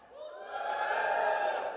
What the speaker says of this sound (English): Give me a cheer if you're on Twitter.